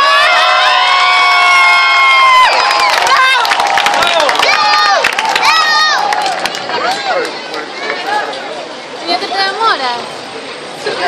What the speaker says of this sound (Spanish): Un aplauso para el pirata con la pata de palo.